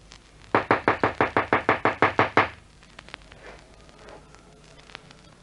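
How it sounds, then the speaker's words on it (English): Twelve sharp, evenly spaced knocks on a back door, loud and close, followed by a quiet room with faint shuffling. "Knock on the back door."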